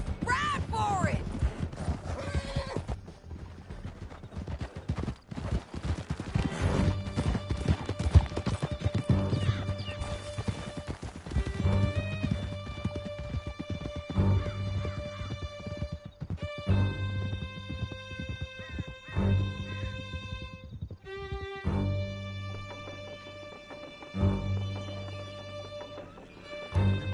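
Horses galloping in the video game Red Dead Redemption 2: rapid clip-clop hoofbeats fill the first stretch, then fade under an orchestral score, with voices talking over it.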